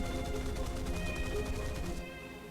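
Rapid gunfire from an A-20 bomber in the video game War Thunder comes as a fast, rattling burst lasting about two seconds, loud and close, then cuts off to a lower engine drone.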